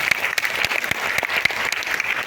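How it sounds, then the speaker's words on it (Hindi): An audience at a business talk claps steadily, a brief, dense patter of many hands filling the room at moderate volume without voices. "अगर दोनों हाथ ऊपर है तो तालियां तो बनती हैं।"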